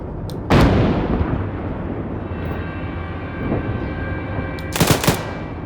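A tank gun and machine guns firing in a war video game: two sharp, loud cannon blasts a few seconds apart, with rattling gunfire and rumbling engine noise between them, and no talk.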